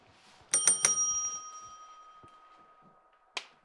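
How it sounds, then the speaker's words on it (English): Three quick bright dings from the match-start bell in the Counter-Strike video game, ringing out and slowly fading into a sustained tone, then a single sharp click near the end. "That's the sound the bell makes when it wants the match to start."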